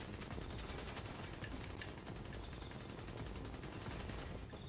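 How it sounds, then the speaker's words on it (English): Rapid gunfire from The Division video game, dense and continuous at close range, with bursts overlapping throughout. "Stop shooting, dude."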